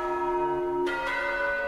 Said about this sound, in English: listen to the entirety of this last midday chime